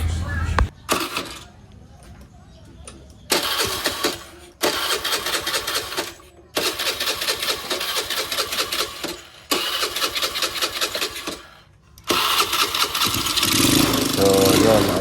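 A Honda Beat motorcycle with a carburetor conversion cranks and revs in repeated bursts, broken by short gaps, then settles into a steadier running engine at close range.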